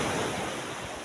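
Sea waves at Nivati beach make a steady, close wash of surf and wind-blown hiss for about a second, with no voices.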